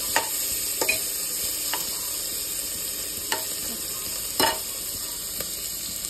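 Onion fries in a pan with a constant bright sizzle, broken by several scraping stirs and clinks of a spatula against the metal, close and alone.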